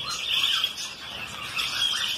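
Cockatiels and red-rumped parrots in a breeding aviary of exotic birds give shrill, squealing calls and chirps that overlap continuously at moderate distance, with no talk.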